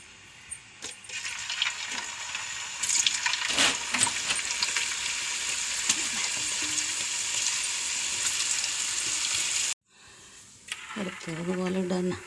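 Kaliyadakka appam fry in hot oil, a loud, steady sizzle with stirring clinks and scrapes, which cuts out briefly and then resumes more softly alongside a speaking voice.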